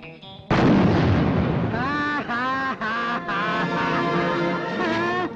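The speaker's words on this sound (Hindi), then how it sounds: "ये धमाका सुनो." A heavy blast erupts in a Hindi-dubbed police action film scene, a sudden loud boom followed by roaring rumble and layered effects and music lasting several seconds.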